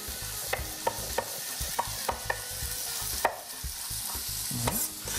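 Polish sausage frying in a hot pan and being stirred and tossed, a steady sizzle broken by sharp scraping clicks of the utensil against the pan at a regular pace, close up.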